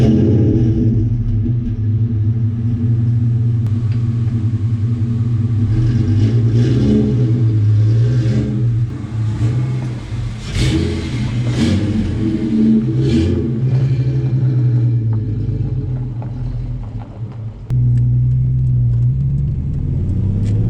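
A V6 Ford Mustang engine runs after a cold start, giving a loud, close, steady exhaust rumble with a few brief rises in revs throughout.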